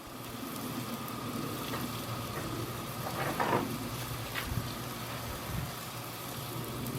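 A blackened tuna steak sizzles in a hot pan, a steady faint hiss and crackle that runs evenly throughout with a few louder spits.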